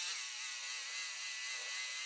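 A Dremel rotary tool with a bristle brush polishes a rock, giving a steady, high-pitched whir that runs evenly and close throughout, with no talking.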